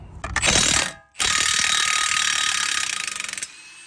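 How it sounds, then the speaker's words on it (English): A Milwaukee 1/2-inch drive impact gun rattles hard against a bolt on a Ram Promaster 2500 front brake, two loud bursts of rapid hammering split by a brief pause, the second burst longer and fading out. "I'm gonna put my 1/2-inch impact gun on there and remove it."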